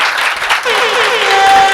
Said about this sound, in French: Applaudissez également pour Soulja.